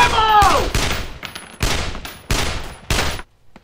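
Loud rifle fire in a war movie ambush: five sharp, close bursts of shots at roughly even intervals, a shouted voice at the very start, then a sudden drop to near silence.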